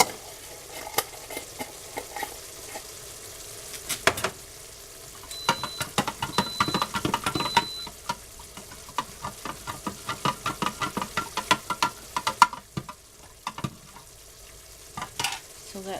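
Beef stroganoff with Worcestershire sauce sizzles in an Instant Pot as a spoon stirs it, giving repeated close scraping and clattering strokes that come in bursts, with quieter gaps between them.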